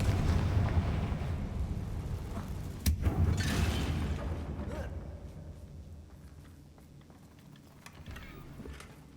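A Confringo spell goes off in a Harry Potter video game as one sharp burst, then a rolling rumble that slowly fades over several seconds.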